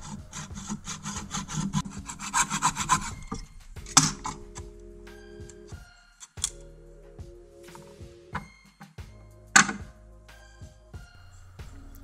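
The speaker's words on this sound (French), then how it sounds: "J'ai fait ça à l'aide d'une scie très mince." A very thin hand saw cuts through a wooden panel, giving rhythmic rasping strokes, close and fairly loud, with short pauses and a few light knocks between bursts of sawing.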